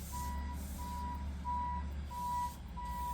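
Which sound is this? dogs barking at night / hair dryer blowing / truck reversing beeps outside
truck reversing beeps outside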